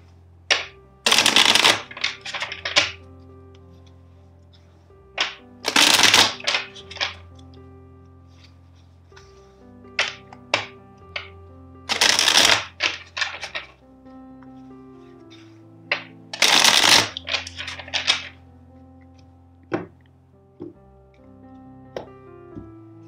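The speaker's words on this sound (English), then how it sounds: "First, let's shuffle the deck 4 times." A deck of tarot cards shuffled up close four times, each a loud riffling burst followed by softer taps and card handling, with pauses between rounds and no speech.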